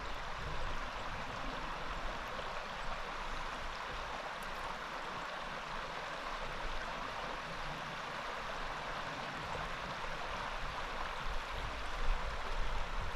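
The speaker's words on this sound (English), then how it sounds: "And the river running through the middle of it all." The East Dart river on Dartmoor flows in a steady, broadband rush of water, close and continuous with small surging swells and no talk over it.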